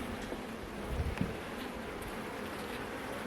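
Honeybees hum around an open hive during an inspection, a soft, fairly distant buzz that stays steady throughout with a couple of faint knocks near the start.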